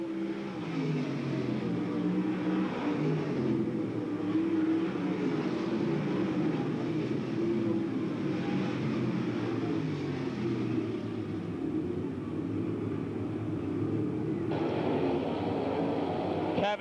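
Race cars at a Bedford Speedway event in 1995 hold a steady, loud engine drone that rises in pitch as the leader pulls away, with no voices in the clip.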